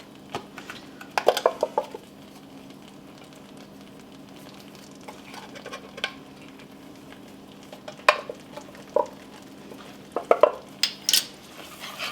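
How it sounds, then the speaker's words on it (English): Spoon stirring black pepper into a thick chicken pot pie filling in a pot, with a few scattered light scrapes and clinks against the pan over a steady low hum, no speech. "Stir that in a little bit."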